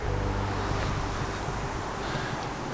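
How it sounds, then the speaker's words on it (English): Wind blowing outdoors in the city of Ely, a steady broadband rush with low buffeting rumble against the microphone, continuous and fairly loud throughout, no voices. "Not such a sunny day here, quite windy."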